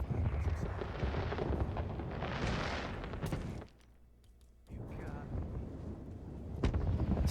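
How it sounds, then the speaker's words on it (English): Fireworks in a multiplayer video game match, a dense run of bursts and crackles under excited commentary, a brief lull midway, then the booming resumes. "TimeCube also starting off immediately with the fireworks."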